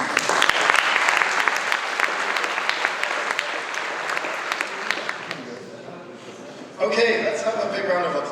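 Audience applause at a university game programming lab's final project presentations, dense sustained clapping that thins out near the end before a voice starts talking.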